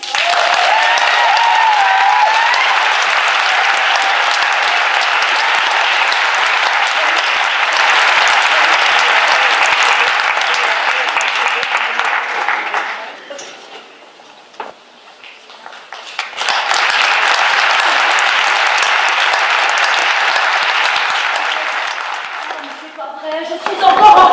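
A large theatre audience claps loudly and steadily for the Oasis performers, dying down to a lull near the middle before swelling into sustained applause again.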